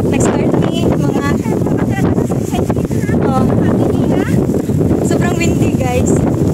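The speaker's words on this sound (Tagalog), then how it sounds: "sobrang windy guys." Strong gusting wind buffets the microphone on Kowloon Peak (Fei Ngo Shan) in Hong Kong, a loud continuous roar throughout while a person talks over it.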